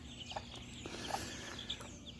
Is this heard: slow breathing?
no